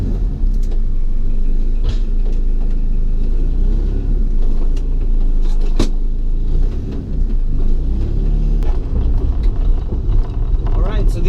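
A 1990 Honda Civic EF hatch with coilovers rolls over rough, broken roads, a continuous low rumble from the cabin with clunks and rattles as the car hits bumps.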